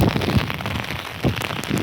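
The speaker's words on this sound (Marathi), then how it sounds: "आता पाऊस आला आणि पावसात बी मी इथं उभा आहे बरं का" Steady rain falls outdoors, a dense, even hiss of drops close by with no voices over it.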